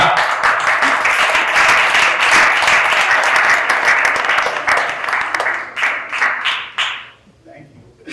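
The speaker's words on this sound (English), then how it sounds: "give it a round of applause" A storytelling showcase crowd applauds the next storyteller, a loud, full burst of clapping with some cheering that holds strong, then breaks into scattered claps and fades out.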